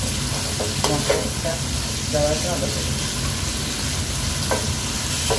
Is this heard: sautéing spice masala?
yes